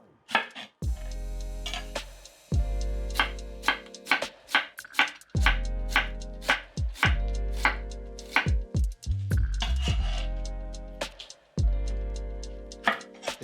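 Half a red onion is chopped by knife on a board in quick bursts of crisp, close, loud thuds, with short pauses between runs and no voices.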